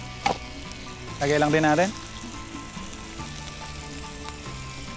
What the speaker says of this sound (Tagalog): Habang nagsisear or nagbabrown yung ating chicken